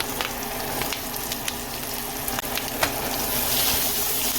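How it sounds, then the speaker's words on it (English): Brussels sprouts hit hot bacon grease in a pan with the heat turned off, producing a close, continuous crackling sizzle with sharp pops and a slight swell toward the end. "I'm going to use this bacon grease, add the Brussels sprouts here"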